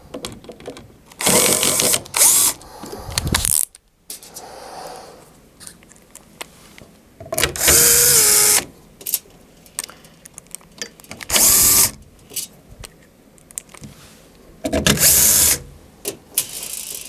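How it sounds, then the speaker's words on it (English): A power drill with a T20 Torx bit drives screws into the control panel of a Phoenix 300 MAX, sounding as several loud, close whirring bursts separated by short pauses. "we'll turn down the torque setting on the drill and go ahead and run the screws in"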